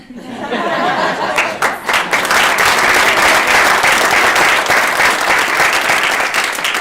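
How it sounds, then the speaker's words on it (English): An audience at a January Do the Right Thing Award ceremony breaks into loud, sustained applause with a little laughter mixed in, filling the room steadily throughout. "let's have another round of applause for all"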